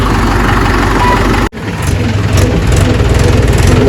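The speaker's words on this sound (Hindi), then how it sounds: "सबसे पहले ट्रैक्टर अपना ही निकला है बाहर" A tractor engine runs loud and close at a steady idle-like drone, dropping out abruptly for a moment before picking back up and running on.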